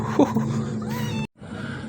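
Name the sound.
cat meowing, a cow-patterned cat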